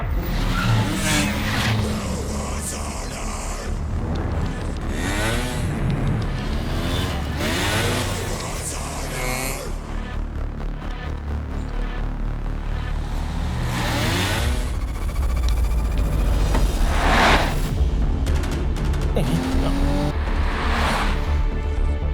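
Car speeding through heavy traffic in an action film, engine revving and roaring with tire squeals and passing vehicles, dense and loud throughout with music-like layers.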